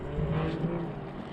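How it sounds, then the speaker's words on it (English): A loud car passes somewhere near a fishing spot, a broad, fairly faint engine roar that swells and fades over about a second, with no talk over it. "Got a loud car, good lord."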